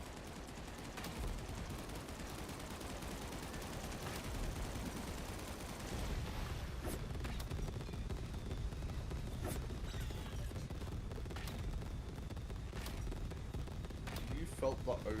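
Gunfire from the Odin gun in the robot cowboy shooter Far Far West, a steady dense fusillade of rapid shots running throughout, with a few sharper bursts standing out near the end.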